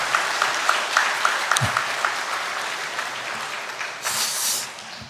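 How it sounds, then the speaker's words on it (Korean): A church congregation applauds during Sunday worship at a Methodist church, a broad wash of clapping that swells into a dense, louder burst near the end. "우리 박수로 환영하겠습니다."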